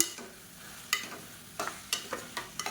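Sliced radish sautés in oil in a pan, a soft, quiet sizzle broken by several sharp stirring scrapes and taps clustered toward the end, no talking.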